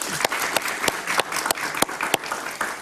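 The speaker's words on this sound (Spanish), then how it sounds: "Un aplauso para él" A television studio audience welcomes a guest, a former Honduran presidential candidate, with scattered applause, a handful of sharp individual claps standing out above a light patter.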